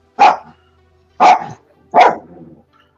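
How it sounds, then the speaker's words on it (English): A dog barks three times, loud and close, with evenly spaced single woofs separated by short silences. "hear a dog barking."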